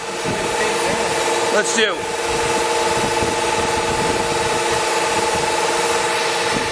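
A Kearney & Trecker 310 S-15 horizontal milling machine with an independent power overarm runs at full 2,000 RPM, giving a steady, loud mechanical hum with sustained tonal whine throughout. A voice speaks briefly over it.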